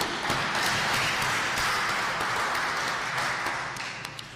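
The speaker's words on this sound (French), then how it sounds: "Applaudissez-vous." Attendees of a Christian apologetics gathering applaud themselves, a dense, steady wash of clapping from a crowd that holds level and then thins out toward the end.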